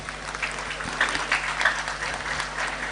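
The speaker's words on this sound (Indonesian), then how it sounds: "Tepuk tangan untuk Pak Haji Hermanderu." A crowd applauds at a Tabligh Akbar gathering: continuous, fairly loud clapping from many people, with a few sharper individual claps standing out and a low steady hum running underneath.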